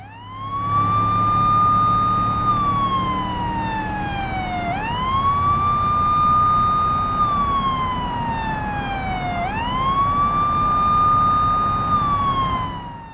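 An ambulance siren in the BeamNG racing video game wails in long, slow rising and falling sweeps, three cycles over a steady low engine rumble, loud and continuous.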